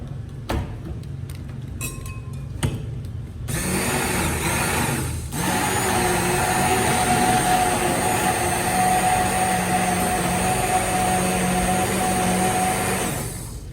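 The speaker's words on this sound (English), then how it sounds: "So this is the only part where I'm using my blender in this formula." A steady, loud motor whir runs continuously with a high mechanical whine, after a few seconds of lighter clicks and clatter.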